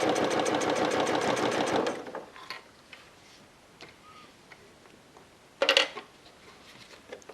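A sewing machine fitted with an adjustable bias-binding foot stitches fabric for a waterproof bib, running in a fast, even whirr for about two seconds, then falling quiet before a second short burst of stitching.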